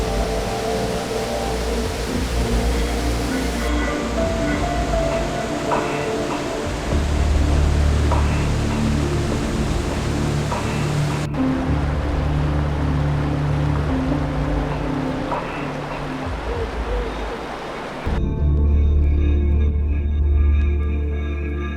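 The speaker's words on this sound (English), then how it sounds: "These waterfalls on spillway attracted the local picnickers." A continuous, loud roar of rushing water fills the whole stretch, a waterfall pouring steadily down a dam spillway, with no voices.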